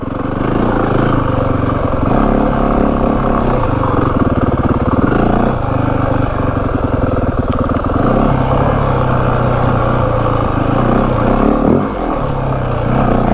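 A 2025 Yamaha WR 450F dirt bike with first modifications and new suspension settings, its engine loud and close while riding, a continuous throaty drone rising and falling with throttle and gear changes, plus clattering over rough ground and no talking.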